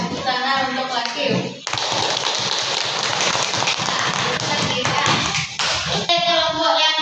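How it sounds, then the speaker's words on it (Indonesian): Children in a classroom clap together in a burst of applause lasting several seconds, bracketed by a teacher's voice speaking before and after. "tepuk tangan untuk Lakif"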